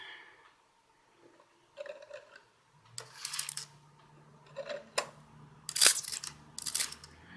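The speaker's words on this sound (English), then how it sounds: "let's give it a spray." A spray bottle fires several short, hissing sprays separated by quiet pauses, with faint handling clicks in between.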